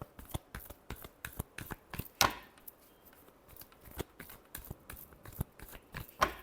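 Tarot cards being shuffled by hand, a quick run of crisp, light riffling taps and slaps at close range, fairly quiet, with a brief sharper flutter partway through.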